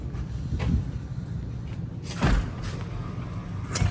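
A sticking door at a newly bought building is forced open, giving a few dull thumps and scraping knocks, one near the start and a heavier one midway, over low background rumble.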